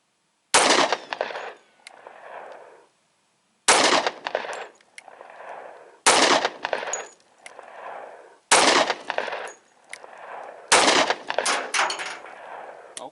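Five loud, close gunshots from a Smith & Wesson Shield pistol firing .45 Auto frangible ammo, spaced a couple of seconds apart, each a sharp crack followed by a brief rumbling echo.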